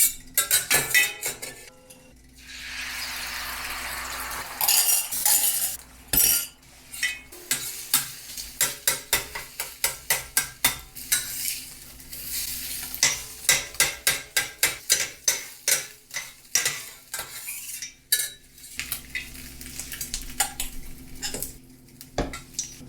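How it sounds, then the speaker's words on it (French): Two long spatulas scraping and clinking on a hot griddle while frying egg for chicken fried rice, rapid rhythmic metallic taps in bursts over a soft sizzle, close and fairly loud. "On va se prendre des spatules. On va travailler avec des spatules."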